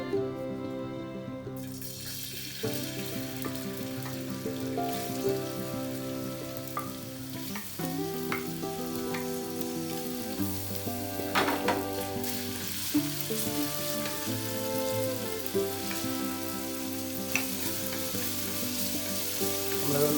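Chopped ginger fries in sunflower oil in a pan with a steady, soft sizzle. Music plays throughout, and there are occasional stirring clinks.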